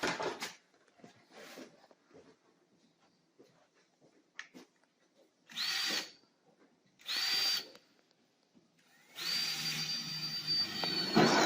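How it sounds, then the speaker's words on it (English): Power drill boring a pilot hole for a Velux sun tunnel installation, several short whirring bursts separated by quiet handling noises, the last run longest and loudest up close. "So the hole we drilled is right there."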